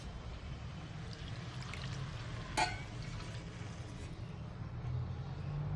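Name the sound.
water poured into broken wheat (dalia) for pulao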